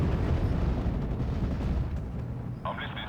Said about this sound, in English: And I'm going to use this artillery as well.